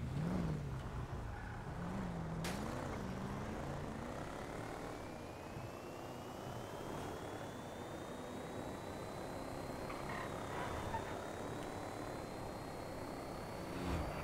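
A car driving in GTA 5, its steady engine drone running throughout with a slowly rising whine, continuous and fairly loud without speech.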